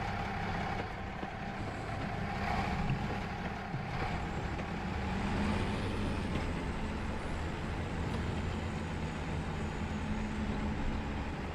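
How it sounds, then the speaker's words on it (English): A combine harvester engine in Farming Simulator 25 runs unattended at a steady, even drone, with a low rumbling bed and a faint whine that holds unchanged for about twelve seconds, with no talking. "I want to get over there and shut that combine down. It's running still."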